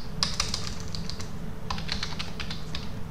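Typing on a computer keyboard while working in data-analysis code, with irregular bursts of quick key clicks and short pauses, close and steady over a low background hum.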